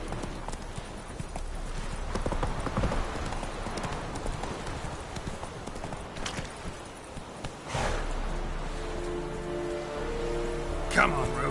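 In The Witcher 3, the horse Roach gallops with rhythmic clip-clopping hooves over a rainy, windy backdrop, while spoken dialogue and a brief whinny-like sound cut in midway.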